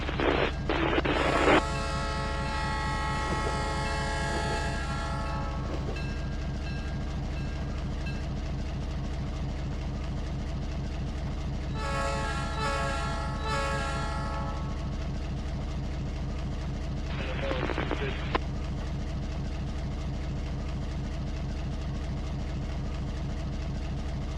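A steady low rumble of a train rolling past nearby in the Trainz 19 railway simulator game, with bright horn-like tonal blasts at the start, midway, and again near the end.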